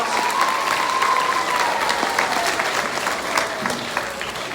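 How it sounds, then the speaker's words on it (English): Steady, dense applause from a crowd at a school board award ceremony, loud and sustained throughout with no break. "Give him a round of applause."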